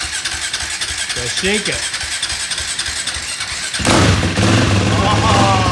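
A three-wheeler motorcycle engine catches partway through and runs loudly and steadily close by, following a stretch of quieter fumbling and voices; people talk over it throughout.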